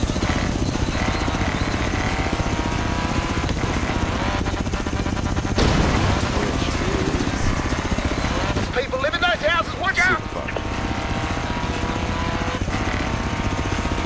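Helicopter in a racing video game, an off-road dune buggy race against the aircraft, with a steady loud rotor drone and game engine roar throughout, plus bursts of crackling effects midway.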